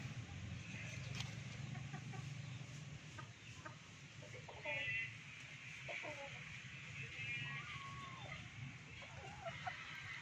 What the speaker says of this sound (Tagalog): Kalalaking manok ay